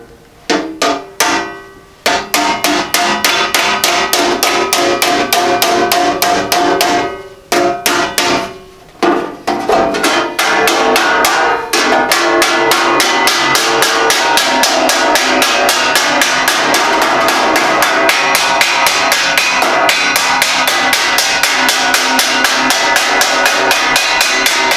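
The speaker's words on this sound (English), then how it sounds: "I'm just going to hammer it the rest of the way over and fold it down." Sheet metal edges on a handmade storage box for a Model A hot rod shop truck are hammered over, with loud, rapid, ringing metallic blows repeating steadily close up and only brief pauses between runs.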